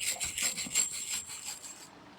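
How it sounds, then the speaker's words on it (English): Steady back-and-forth hand rubbing on narrowboat woodwork, a close, hissing rasp in even strokes that fades and stops just before the end. "I finished the initial rubbing down."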